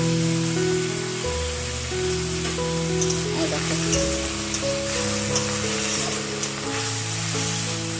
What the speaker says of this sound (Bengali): এটা আমি ভালো করে তেলের মধ্যে ভেজে নেব